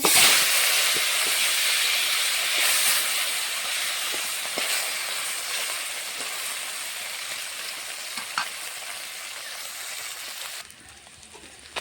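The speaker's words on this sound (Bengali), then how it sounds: "বাকি মাছগুলো এভাবে ভেজে নেব।" Steady loud hiss and sizzle of bata fish frying in hot oil, with occasional pops, continuing for several seconds before fading near the end.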